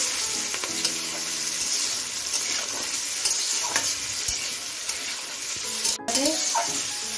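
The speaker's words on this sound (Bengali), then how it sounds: "এখন আমি গ্যাসটা লো টু মিডিয়ামে রেখে ভালো করে সবজিটা ভেজে নিচ্ছি।" Vegetables fry in a pan over low-to-medium gas heat while being prepared for vegetable dal, a continuous soft sizzle broken by occasional scraping stirs and light clinks.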